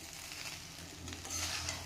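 Heated spices go into frying rice in a pan, with soft sizzling and the scrape of stirring, quiet and close.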